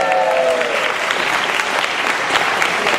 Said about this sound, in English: let's give Alexio a round of applause